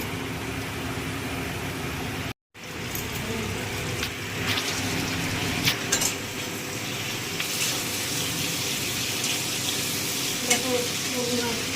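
Potatoes frying in a pan in a home kitchen sizzle loudly and continuously, with brief stirring sounds and a short dropout near the start, no voices over it.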